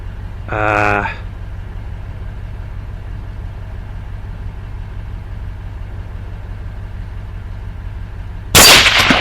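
A single loud, sharp rifle gunshot at close range during a hog hunt, cracking out near the end after a brief spoken exclamation and a stretch of quiet outdoor hum.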